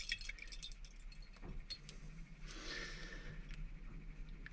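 A wire stirring seeds soaking in a container of water, giving light metallic clinks and scraping taps in an uneven run, close and faint.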